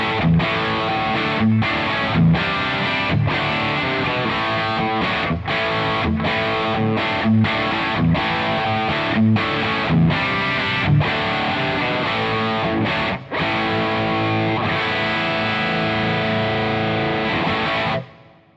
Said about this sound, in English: as you turn up the input gain, it becomes this really awesome mid-gain rhythm channel